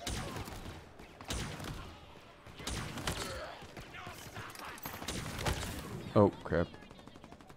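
Gunfire in the video game Halo Infinite comes as repeated bursts of shots, some sharp and close and others softer, while someone talks over the action.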